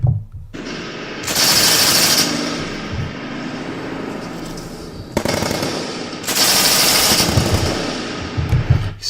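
Rapid automatic rifle fire from the Las Vegas Mandalay Bay shooting rattles out in two long, dense bursts separated by a few seconds, loud and echoing, with a rumbling backdrop between them.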